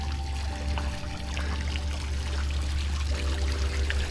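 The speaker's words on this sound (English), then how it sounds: "the one just got done rinsing the rest of the deck here." Water from a hose streams and pours steadily across a travertine paver deck during rinsing, a continuous close rushing wash with no pauses and no talking.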